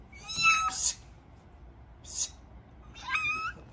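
A cat meows three times, close and clear, with short gaps of quiet between the calls.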